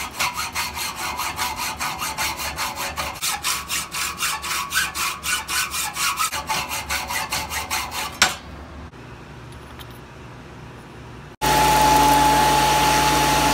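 A hand saw cuts aluminum tube and threaded rod in steady, rapid strokes up close for about eight seconds, followed by quieter handling and then a loud steady hum.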